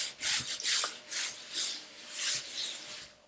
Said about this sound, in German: Jetzt können wir noch ein bisschen schieben und reiben jetzt die Luft zum Rücken hin raus.